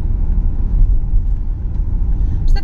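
On a narrow coastal road near Skaland and Gryllefjord in Senja, Norway, an oncoming car passes with a close, rumbling roll of engine and tires that swells briefly near the end.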